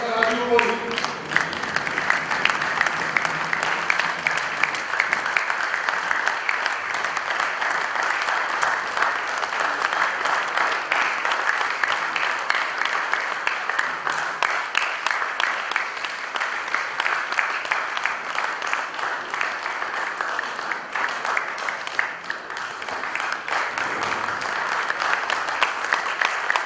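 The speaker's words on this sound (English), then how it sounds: "Ladies and gentlemen, can you please have a standing ovation for Mr. Raju Koli?" Sustained, steady applause from a large audience giving a standing ovation at an awards ceremony, dense and even for nearly half a minute, fading slightly near the end.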